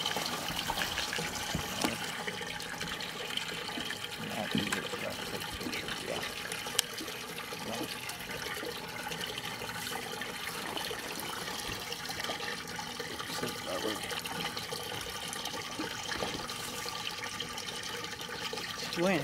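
Water sloshing and splashing steadily as a large bass caught on Toledo Bend is lowered back into the water, a continuous close wash of liquid with some faint talk behind it.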